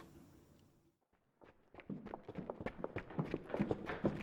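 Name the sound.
footsteps coming up the stairs, from the video game Steins;Gate 0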